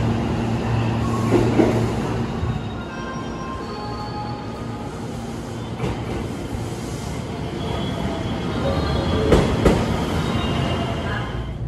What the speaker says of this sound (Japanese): 10時50分発糸崎行きの普通電車に乗ります